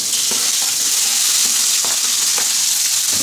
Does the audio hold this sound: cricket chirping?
no